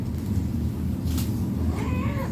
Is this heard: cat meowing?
yes